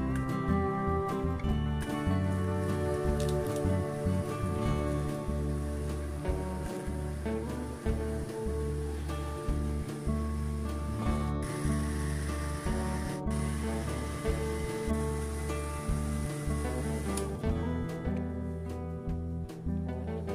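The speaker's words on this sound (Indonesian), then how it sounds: "blender sampai benar-benar daun mintnya itu halus ya." A blender motor whirs loudly and continuously for around twenty seconds, blending mint leaves, its tone shifting briefly partway through before settling back.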